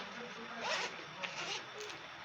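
A zipper on a homemade fabric school bag being unzipped, a quick rasping pull with a couple of short follow-up tugs, close and fairly quiet.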